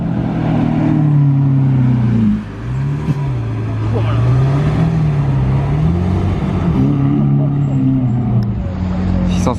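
A black Porsche Carrera GT's engine revs loudly and close, its pitch climbing, dipping around two seconds in, then rising again and holding steady over roadside crowd chatter.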